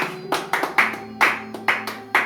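A church congregation claps in worship, sharp rhythmic handclaps in a steady beat, close and fairly loud, with no voices over them.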